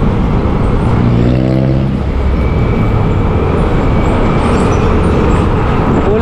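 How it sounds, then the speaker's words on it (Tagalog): Heavy truck rolling loud and close over a concrete road, a steady broad roar with a brief deeper engine drone that swells early, then a continuous rumbling wash of road noise to the end. "Sa bibigat ba naman ng truck"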